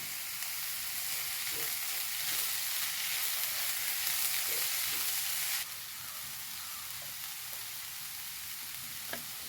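Curry leaves hit hot oil in a frying pan and set off a loud, close sizzle and spitting hiss, fading to a softer steady fry partway through. Faint clinks sound from the pan.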